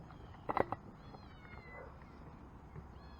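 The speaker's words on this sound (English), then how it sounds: "That kitten showed up today." A stray kitten meows a few times close by in a short burst, followed by quieter outdoor ambience with faint rustling.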